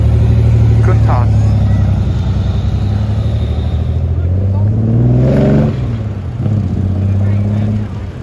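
A Lamborghini Countach replica's engine revs up close, loud throaty surges rising and falling in pitch before settling back.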